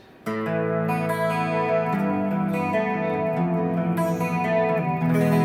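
Electric guitar through a Boss GT-1 multi-effects unit with bass boosted, heavy effected tone, chords ringing out with sustain and a chorus-like shimmer, loud and steady after a brief quiet start.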